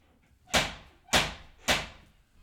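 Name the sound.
knocking at the door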